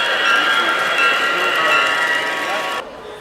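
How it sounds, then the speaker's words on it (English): Steady rolling rumble of small model trains running on track through museum scenery, continuous and fairly close, cutting off abruptly near the end. "The trains pulled pretend passengers and small shipments through scenery set up in the museum."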